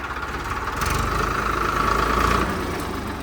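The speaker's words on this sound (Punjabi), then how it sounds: "ਟਰੈਕਟਰ ਚੱਲਿਆ ਜੀ ਆਪਣਾ ਨਕੋਦਰ" A Farmtrac 60 tractor's diesel engine runs at a steady, close idle with a low throbbing knock, swelling slightly in the middle before settling back.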